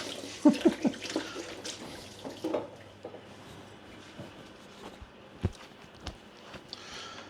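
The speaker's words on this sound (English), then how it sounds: "Quickly rinse my hands because I'm now covered in stock cube" Hands crumbly with stock cube are rinsed under a running kitchen tap, a soft continuous splash of water with a few louder knocks and clatters near the start, fairly quiet and close.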